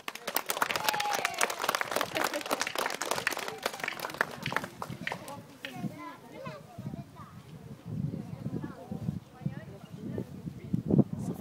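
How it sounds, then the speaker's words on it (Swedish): Audience at a children's riding clinic on a ranch breaking into applause, a burst of scattered claps that fades after a few seconds into quieter outdoor sounds and talking voices. "Applåder!"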